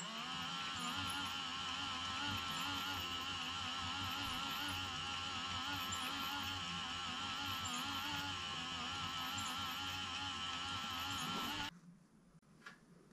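An Aqara Roller Shade Driver E1 motor raises a roller blind with a steady, fairly quiet whine and faint periodic chirps, running continuously for about eleven seconds before stopping abruptly into near silence.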